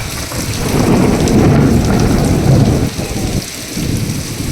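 Heavy rain pours outdoors with a low rolling rumble of thunder building and fading, loud and close, with no voices.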